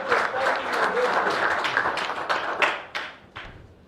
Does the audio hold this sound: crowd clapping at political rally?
yes